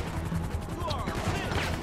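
Bursts of rapid gunfire from an attacking helicopter in GTA 5, loud and close over a dense game soundscape, with no speech over the shots.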